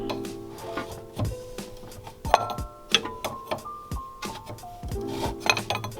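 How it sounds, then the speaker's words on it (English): A wrench turns a bolt by hand on the front suspension of a Honda CRX, near a radius rod and traction bar, giving rhythmic metallic ratcheting strokes and scrapes with faint ringing tones, close and fairly loud. "Now the other one, I have enough room to do it by hand with a wrench."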